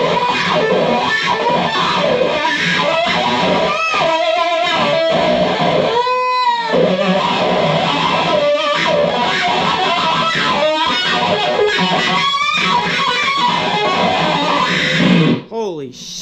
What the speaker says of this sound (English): Alright, 70s rock E with octave and distortion.